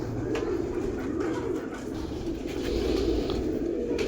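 A pair of breeder pigeons with white bands coos in soft, low, repeated rolling calls, close and clear, continuing steadily with no talking.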